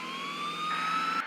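Ambulance siren on the truck heard as a steady loud electronic wail with a rising tone held for just over a second, then cutting off abruptly, no talk.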